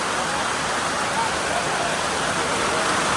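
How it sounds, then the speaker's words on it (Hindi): Heavy rain pours down on a village near Jim Corbett tiger territory in India, a loud, dense, unbroken hiss that fills the whole stretch and sounds close, with no clear talking over it. "गाँव दिखाना था आपको सचिन का अंदर से, लेकिन ऐसी बारिश की मजबूरन हमें भागना पड़ा।"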